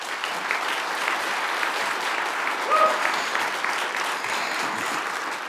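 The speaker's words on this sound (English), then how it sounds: "Let's give him a huge round of applause." An audience applauds a trucking company's driver of the year, a loud, even wave of clapping from many hands lasting several seconds, with a brief whistle-like tone in the middle.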